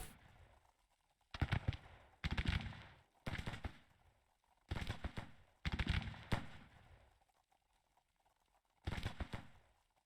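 Civil War musket volleys ring out in the Grand Tactician strategy game, as five or six loud crackling bursts of massed fire with short quiet gaps between them. No one speaks.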